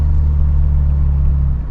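A 1991 Nissan 300ZX Z32 twin turbo rolls over railway tracks, its low engine and road rumble droning steadily and close throughout, with no voices.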